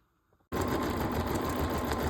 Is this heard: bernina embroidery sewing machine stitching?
yes